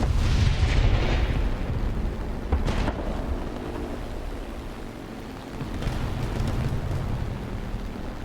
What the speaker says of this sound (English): he just survived a carpet bombing by a B-25.